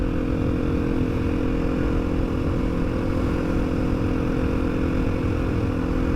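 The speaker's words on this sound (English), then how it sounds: "And I'm out on the motorbike." A Sherco 500 motorcycle engine drones steadily and loudly close by while riding, a constant rumbling hum with no pauses or voices.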